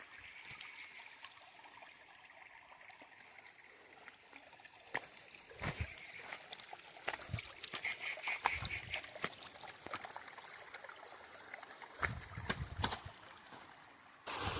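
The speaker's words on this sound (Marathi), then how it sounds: "इथनं पाणी येतो." A shallow river with a stony, boulder-strewn bed in a hill valley, where water flows steadily over the stones. The flow makes a soft, continuous wash and trickle with a few sharper splashes. It is moderately close and stays quiet throughout, with no talking.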